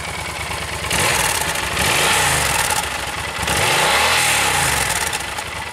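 A 2015 Yamaha Super Tenere twin-cylinder motorcycle engine revved up close, rising in two strong throttle blips over a steady idle rumble, loud and alone.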